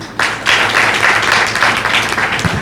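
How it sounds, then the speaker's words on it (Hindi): People on a stage at a large indoor gathering break into applause, brisk close clapping starting abruptly and holding steady for a couple of seconds. "स्टेज वाले ताली बजा रहे हैं"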